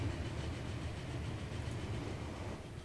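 Steady low rumble of a train engine running in Transport Fever, an even, continuous mechanical drone at moderate distance with no talk.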